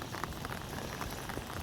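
Rain falling on a wet Sunday, a steady soft patter of drops on surfaces forming an even, faint hiss with scattered small ticks, with no voices.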